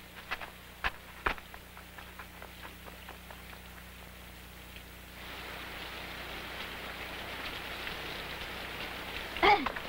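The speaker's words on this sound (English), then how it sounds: "It started to rain." Rain falls steadily on surfaces in an animated film scene, a soft patter that thickens into a denser hiss halfway through, with a few sharp knocks early on.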